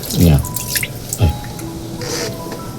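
Water dripping off vegetables soaked in a baking soda and citric acid wash, a couple of distinct wet drips early on followed by faint trickling, close and alone.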